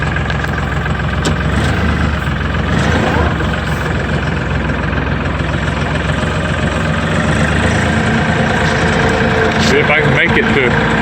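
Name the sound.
LS XR3135 tractor engine cranking and idling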